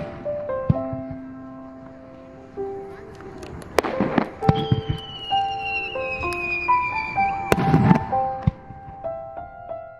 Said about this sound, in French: Les feux d'artifice autour du lac Suwa, ils sont très connus